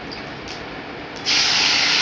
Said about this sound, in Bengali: কিছুটা পরিমাণ সর্ষে তেল দিয়ে দিলাম